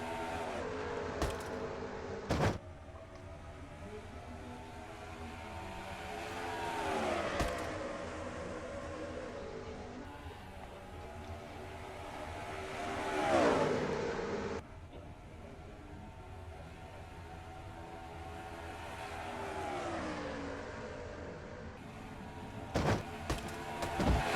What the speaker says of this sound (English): The green flag flies. The Mello Yello 500 is underway here at Charlotte.